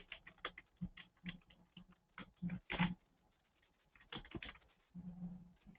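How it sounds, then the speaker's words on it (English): Quiet, irregular clicking of keys on a computer keyboard as a password is typed, soft close taps in uneven bursts with short pauses, no talking. "But if you already know your password, then you can just start typing."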